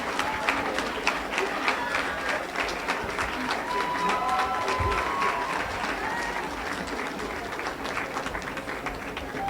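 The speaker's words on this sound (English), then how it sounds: "Let's get one more big round of applause for your 2019 presiding officers." Sustained audience applause at a CONA convention honoring newly elected 2019 presiding officers, dense clapping with some crowd noise and voices mixed in, steady and loud throughout.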